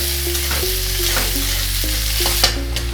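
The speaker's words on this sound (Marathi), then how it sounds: "कांदा व्यवस्थित सगळं फ्राय करून घ्यायचं" Onions and curry leaves fry and get stirred in a pan for an eggplant bhaji, giving a steady close sizzle with occasional stirring scrapes and a faint tonal hum underneath, no talking.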